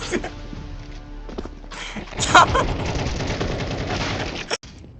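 Gunfire in a shooting video game: loud, dense and rapid, continuing for several seconds before it cuts off abruptly near the end.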